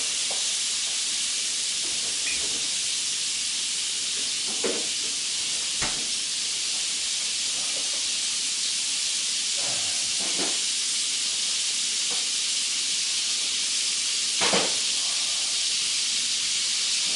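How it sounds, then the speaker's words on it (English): Butter and oil sizzling in a hot pan with steaks, a steady close hiss running throughout with a few brief crackles and pops. "So I got my oil getting hot over here with my steaks."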